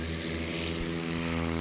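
A STOL propeller airplane flies past during a National STOL qualifying event in Central Florida, its engine drone steady and fairly loud throughout with no voices.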